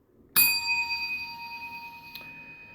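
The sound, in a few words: bell ding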